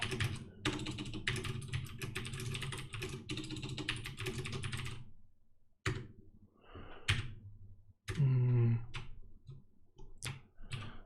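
Rapid clattering keystrokes on a computer keyboard during binary exploitation hacking practice, close and steady for about five seconds, then a few scattered clicks and knocks, with no talking.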